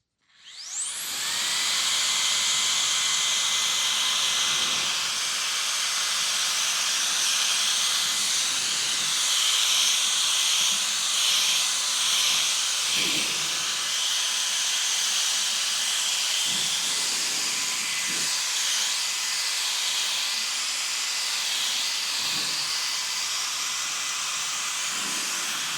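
A Fanttik BF10 Pro handheld blower runs without its nozzle while drying a car's hood, spinning up quickly into a loud, steady, high-pitched whooshing roar that holds for the full length with only faint shifts in tone.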